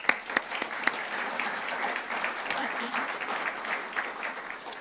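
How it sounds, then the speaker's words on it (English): A ground-breaking ceremony audience breaks into applause: a dense, steady patter of many hands clapping, with a few sharper individual claps near the start, all at moderate distance. "Another round of applause."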